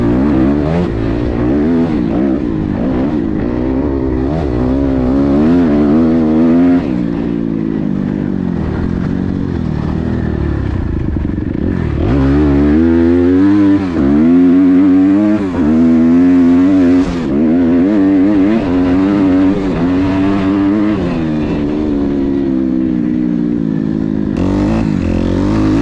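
Several motocross bikes riding a tight, sandy track, sometimes side by side, their engines revving up and down continuously in loud, close, rising and falling bursts with no talk.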